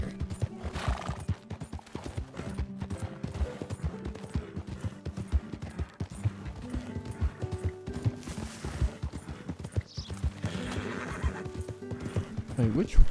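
A horse in a video game whinnies over a continuous clip-clop of hooves, with someone talking over it throughout.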